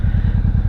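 A 1985 Honda Shadow VT700 motorcycle engine idling somewhat high, a steady low rhythmic V-twin thump with even pulses, close and loud, with no talk over it.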